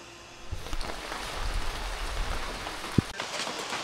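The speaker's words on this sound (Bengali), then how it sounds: "শুরু হয়ে গেছে বৃষ্টি, এতক্ষণ মেঘলা ওয়েদার ছিল, এখন বৃষ্টি শুরু হয়ে গেছে।" Rain falling in Darjeeling under cloudy skies, a steady soft patter that builds after the first half-second and carries one sharp knock near the end, with no one speaking.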